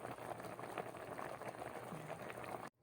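Paksiw of small talakitok fish with ginger and chili simmers in a pot, giving a faint, steady bubbling with soft pops that runs evenly and then cuts off abruptly.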